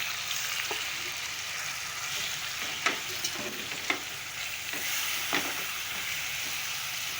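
Chopped raw mango pieces cook in roasted spices in a pan for mango chutney, giving a steady close sizzle with a few sharp clicks of stirring.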